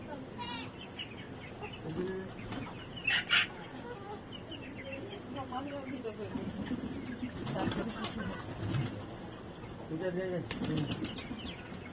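Pigeons feeding on straw from a small bowl, with soft wing flaps and cooing close by amid a busy outdoor background and occasional talk.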